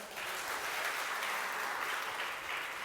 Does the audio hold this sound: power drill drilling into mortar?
no